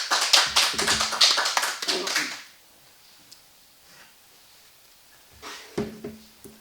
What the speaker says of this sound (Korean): 우리 크게 좀 박수로 맞아주시면 고맙겠습니다